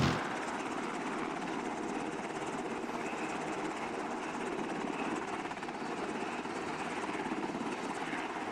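A helicopter in a video game gives a steady rotor roar and whine through the whole stretch, constant and fairly loud, with no talking.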